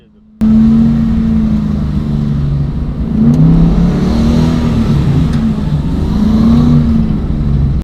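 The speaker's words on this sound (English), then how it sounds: "And all the engine noise." A Hummer H2 built for off-road use, engine running steadily in a low gear with a blocked lever, a loud continuous drone with slight rises and dips in pitch, close to the listener.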